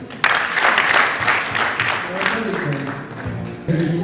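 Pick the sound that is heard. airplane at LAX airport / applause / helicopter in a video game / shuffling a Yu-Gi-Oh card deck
applause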